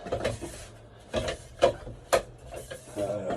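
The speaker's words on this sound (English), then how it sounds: "Use the wrench to tighten these." A wrench tightens plastic water filter cartridge housings on a home water system, giving a few short, separate creaking and rubbing bursts against a quiet background.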